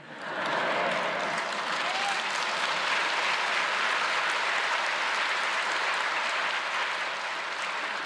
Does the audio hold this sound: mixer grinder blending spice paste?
no